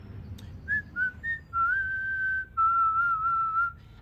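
A person whistles a short tune alone: a few quick clipped notes, then longer held tones that slide between pitches, clear and fairly close over faint background.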